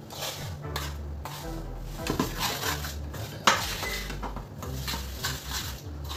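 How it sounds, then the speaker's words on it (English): Peanuts and jaggery are stirred in a metal pan with a utensil, giving repeated scraping and clinking strokes with a soft sizzle underneath, close up and with no voices. "Just mix nicely all the peanut and jaggery."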